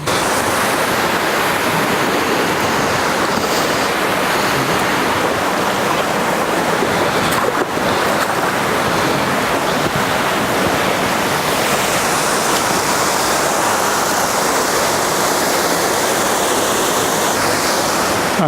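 A waterfall beside a dipper nest pours in a steady, loud, broadband roar that never lets up, heard close by and alone without any voices.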